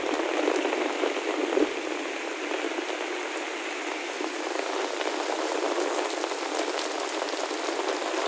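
Heavy typhoon rain pours down in a dense, continuous hiss near the flooding Marikina River, loud and unbroken throughout, with no voices.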